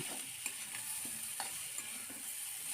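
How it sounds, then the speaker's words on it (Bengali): Dry ground spices with bottle gourd are stir-fried in a pan, a soft steady sizzle broken by light, repeated scrapes of the spatula, with no voices. "এখন সব কিছুকে একসাথে ভালো করে একটু কষিয়ে নিচ্ছি।"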